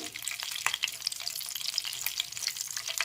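Whole spices for a tempering frying in hot oil in a pan before a cauliflower curry with yogurt, a soft continuous sizzle dotted with quick crackles and pops, close and fairly quiet, with no talk.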